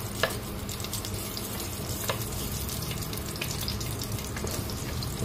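Garlic sautéing in olive oil in a pan, a steady close crackling sizzle with scattered pops and light stirring, continuous and without talking.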